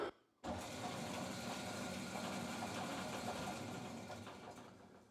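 A DoAll band saw with a worn old blade fitted runs steadily after a gearbox repair, giving a constant close mechanical whir and hum that starts abruptly after a brief quiet moment and holds evenly, easing slightly toward the end.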